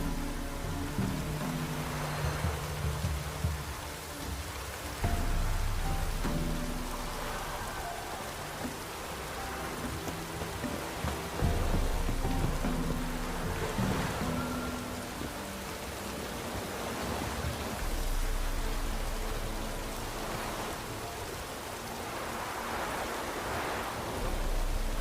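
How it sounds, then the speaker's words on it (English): Steady rainfall in The Witcher 3: Wild Hunt, a dense, continuous hiss of drops on surfaces with slow swells in loudness and a low rumble underneath, lasting throughout with no voices. "Looks like rain."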